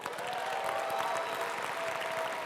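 Sustained applause from a crowd at the ATFL 2025 Annual Gala Dinner, dense even clapping that stays constant from start to finish.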